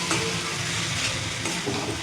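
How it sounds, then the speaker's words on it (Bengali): Vegetables and dalia with slit green chillies stirred and fried in a pan, a steady broadband sizzle with soft scraping of the spoon running continuously and fairly close. "এবার ভালো করে নাড়াচাড়া করে কিছুক্ষণ কষিয়ে নেব"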